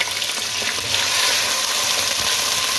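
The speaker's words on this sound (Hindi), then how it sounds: "गोश्त को इसके अंदर थोड़ा सा भून लें" Mutton browning with onions in a pot, a dense continuous sizzle and crackle close up, with faint stirring underneath and no voices.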